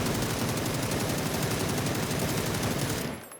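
Rapid automatic rifle fire with a red dot sight in the video game PUBG, a loud continuous burst of shots lasting about three seconds before cutting off.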